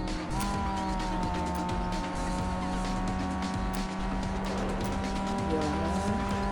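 Race cars in Need for Speed Underground 2 roar through a street race, engines droning loudly and shifting pitch, with tire squeal and skidding over a steady game soundtrack.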